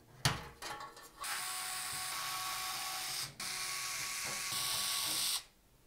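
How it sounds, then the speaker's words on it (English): A powered driver whirs as screws come out of a bracket on a Thermaltake CTE C700 case, two long steady runs separated by a brief pause, with clicks before and silence after. "there's four screws that we're going to need to remove."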